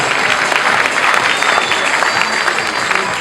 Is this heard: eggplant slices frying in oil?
no